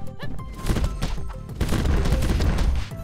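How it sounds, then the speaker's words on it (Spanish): Aerial blast attack in the video game Super Crush KO, a dense rapid volley of punchy explosive hits and crashes layered over game music, loud and continuous for a few seconds. "Explosión aérea. Tú en el aire."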